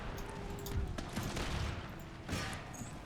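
Musket volleys from massed line infantry crackle in Empire: Total War, a dense rolling fusillade of overlapping shots with a second burst near the end, loud and continuous.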